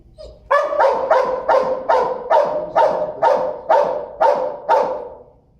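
A police K9 dog barks hard and close in a steady run of about ten loud, evenly spaced barks, alone with no talk.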